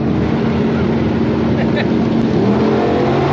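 Twin turbo Monte Carlo SS engine idling and revving during tuning, a loud steady droning rumble with a slight rise in pitch toward the end, close by.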